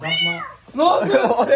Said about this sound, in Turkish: O kedi nereden geldi burada